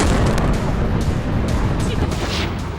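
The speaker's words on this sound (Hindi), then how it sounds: "ओडेसा में सबसे बड़ा धमाका बिजली सब स्टेशन पर ड्रोन गिरने के बाद हुआ।" Heavy booming blasts with rumbling low end and sharp bursts, loud and continuous, like explosions echoing nearby, from a drone strike on an electrical substation in Odesa.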